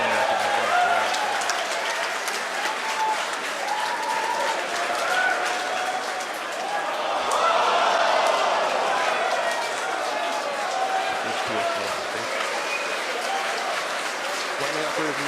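Crowd of SpaceX team members cheering and clapping during a NASA CRS-16 launch broadcast, a steady wash of applause-like noise lasting throughout, with a commentator's voice running over it.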